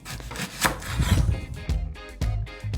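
A knife cuts pears into coarse slices for drying, with a series of close, rough scraping cuts, first a run of rubbing strokes, then several separate short chops spaced apart.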